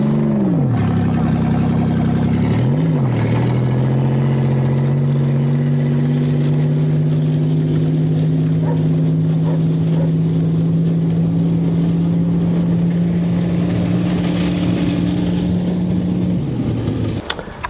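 The engine of a Buick car crushed twice by a 20-ton dozer runs loud and close, revving briefly at the start, then holding a steady, rough drone before dropping near the end.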